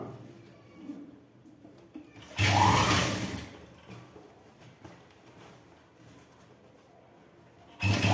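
A sewing machine runs in two loud bursts while stitching a trouser leg seam, the first lasting about a second and the second starting near the end, with quiet pauses in between.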